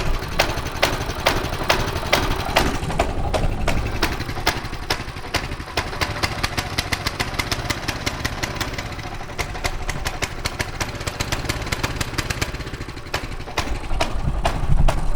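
A small pull-start gas engine on a camp cruiser runs with the choke on, a fast, even, buzzing idle with rapid regular firing pulses, close and steady throughout with no voices.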